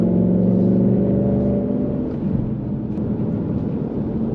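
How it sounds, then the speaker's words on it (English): Engine of a 2021 Ford Mustang Mach 1 with a Tremec manual transmission blips during a downshift rev-match, a loud close droning roar that eases slightly partway through, no talking over it. "rev matching is a must."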